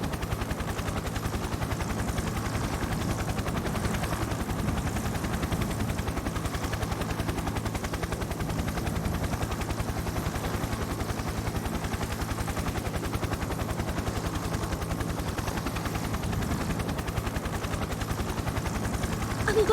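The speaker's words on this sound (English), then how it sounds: "What's this helicopter doing here?" A helicopter in the fighting game Persona 4 Arena Ultimax holds a steady, loud rotor chop with a rapid pulsing texture, continuous throughout the stretch and mixed with game sound.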